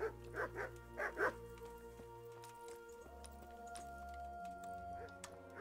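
A dog in the video game Kingdom Come: Deliverance gives several short barks and yips close by in the first second or so, then falls quiet, leaving a low steady hum and background tones.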